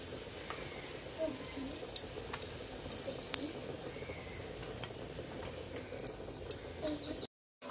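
Soybean dumplings (muitha) fry in hot oil, giving a steady low crackling sizzle with scattered pops and light clinks throughout, fairly quiet, ending in a brief silence.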